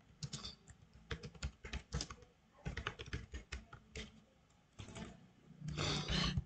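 A username is typed on a computer keyboard in quick bursts of close, crisp key clicks separated by short pauses, with a denser flurry of keystrokes at the end.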